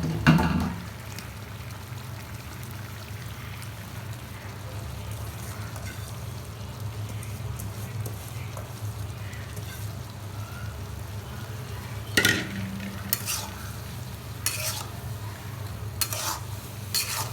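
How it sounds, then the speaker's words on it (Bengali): Shredded cabbage goes into a simmering prawn curry in a pan, giving a low bubbling sizzle with scattered scraping stirs near the end, close and moderately loud, no talking. "আমি এখন পাতাকপিটা দিয়ে নেব।"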